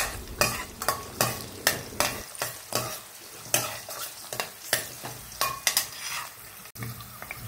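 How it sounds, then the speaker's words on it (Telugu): Chopped green chillies fry in hot oil in a pan, a continuous sizzle punctuated by regular, fairly loud scraping strokes of a spatula against the metal, roughly twice per second. "అందులో మనం కట్ చేసి పెట్టుకున్న పచ్చిమిర్చి వేసి బాగా వేయించాలి"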